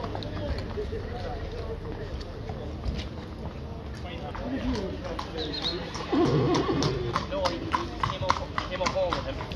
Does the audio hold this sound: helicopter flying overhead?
no